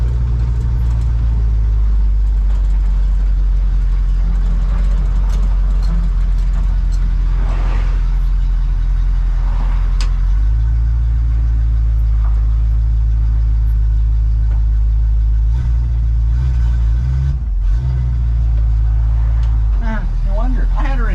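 After brake work and a tune-up, a car's engine runs with an unhappy accelerator pump on a rough gravel driveway, giving a loud, continuous low rumble that shifts slightly in pitch.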